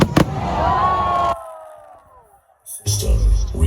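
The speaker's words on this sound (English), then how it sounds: "Testing chrysanthemum shells." Chrysanthemum firework shells burst at a show, a sharp crack followed by a sustained crackling, hissing trail that fades into quiet before more loud bursts and crowd noise return.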